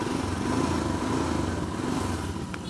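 A Royal Enfield Himalayan adventure motorcycle engine idles nearby with a steady, throbbing single-cylinder thump and light mechanical clatter, alone with no talk.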